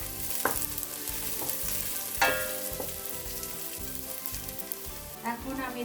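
Chopped medium onion frying and being stirred in a pan for Ramadan khichuri, a steady close sizzle with periodic scraping strokes of a utensil, no voices.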